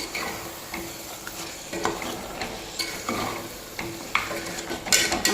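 Already-cooked mutton being stirred into a sizzling masala in a pan for biryani, a spoon scraping and turning the meat in repeated strokes over constant frying hiss, growing louder toward the end, no talk.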